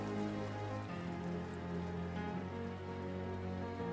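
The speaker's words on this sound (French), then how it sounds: "la pluie tombe souvent sur moi" Steady rain falling outdoors in northern France, a continuous close wash of drops on surfaces with a faint low hum beneath, no voices.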